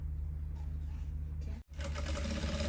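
A sewing machine fitted with a bias binding foot runs in a steady whirring hum, briefly cutting out for a moment before starting up again, close and alone.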